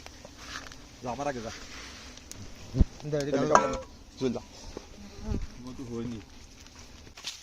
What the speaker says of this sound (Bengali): লক্ষ মৌমাছি কিন্তু দিক বিদিক ছুটে বেড়াচ্ছে